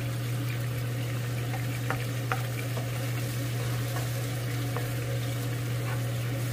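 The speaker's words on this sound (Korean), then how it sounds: "충분히 달군 팬에 기름을 넣고 마늘을 넣고 마늘기름을 넣습니다" Garlic fries in oil in a well-heated pan, a soft steady sizzle over a constant low hum, with a few faint clicks and stirring taps scattered through.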